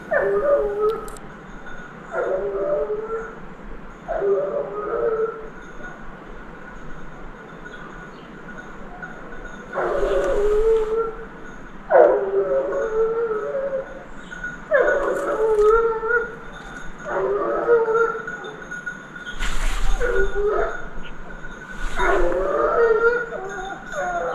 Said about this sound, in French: les chiens courants arrivent